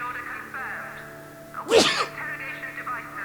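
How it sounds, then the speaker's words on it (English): A single sharp sneeze bursts out over a steady background hum, with a little speech-like sound around it, during play of the video game Evil Genius. "I'm about to sneeze again."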